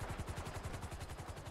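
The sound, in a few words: gunfire in the video game GTA 5 Online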